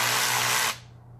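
A Milwaukee M12 Fuel cordless ratchet spins with a loud, close, high motor whir for under a second, then stops abruptly, leaving a faint hum.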